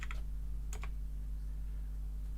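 A few quick, faint keystrokes on a computer keyboard during a programming lecture, two brief bursts of clicks over a steady electrical hum, with no one talking.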